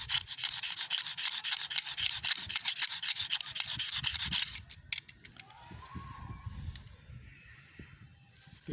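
A blade shaves a thin local bamboo kite stick in quick, rhythmic rasping strokes for about four seconds, then softer scattered scrapes and handling noises follow.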